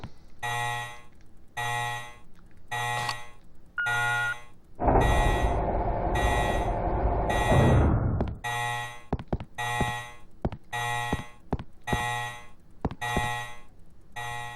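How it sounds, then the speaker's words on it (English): Alarm in the Resident Evil Code Veronica video game blaring in a steady repeating pattern of loud electronic beeps, broken midway by a few seconds of dense roaring rumble before the beeping resumes alongside sharp clanks. "So the alarm will go off and the ventilation is complete."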